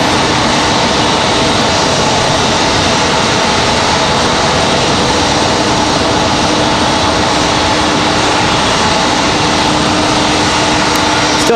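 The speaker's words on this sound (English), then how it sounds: "That E175 coming to a complete stop." An Embraer E175 jet rolls out after landing at Raleigh-Durham International, its engines giving a steady, loud broadband roar with a faint whine held throughout, with no voices.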